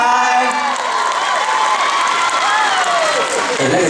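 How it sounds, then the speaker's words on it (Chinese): A concert crowd at a charity show in a memorial hall screams and cheers loudly and continuously, with whoops and shouts forming a dense, sustained roar. "那个尖叫声好像不太够。"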